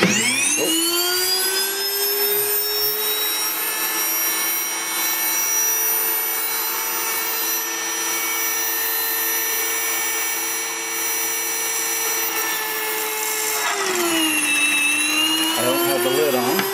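An electric grain mill grinds hard red wheat berries with a loud, steady jet-like whine that holds a constant pitch before shifting near the end, the machine close and dominant.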